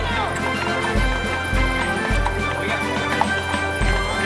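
Horse hooves clip-clopping steadily on pavement as a team pulls a driven cart along a Fourth of July parade route, under continuous crowd noise and an announcer talking.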